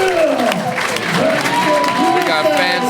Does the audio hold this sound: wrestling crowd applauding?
yes